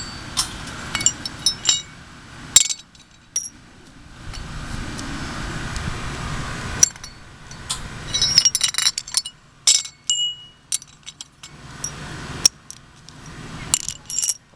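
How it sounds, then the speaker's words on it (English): Small metal washers clink and jingle close up as they are slid onto a bolt, the sharp bright taps coming in uneven clusters separated by quiet handling gaps, with no speech. "Put all the washers, the small washers, on one bolt, and then run a cotter pin through it just so they don't get lost."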